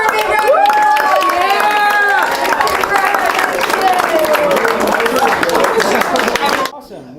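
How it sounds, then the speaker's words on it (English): Applause and cheering from a group honoring a teacher at an education awards event, with sustained clapping mixed with crowd babble and excited voices that fades out abruptly near the end. "Let's give her a big round of applause!"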